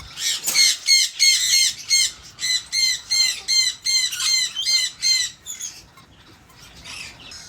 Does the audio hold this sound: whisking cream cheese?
no